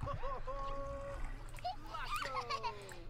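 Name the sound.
splashing bath water, from The Sims 4 video game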